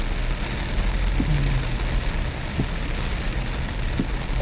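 Heavy rain pours onto a flooded road in a steady, dense hiss that fills the whole stretch, with a few faint low knocks under the downpour and no voices.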